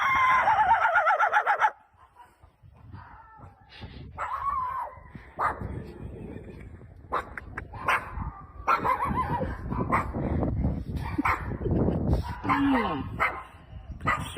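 A man imitates a dog with his voice, giving barks, yelps and whimpering sounds in quick bursts, starting with a loud, sustained cry and then going on as a run of short, uneven dog-like calls.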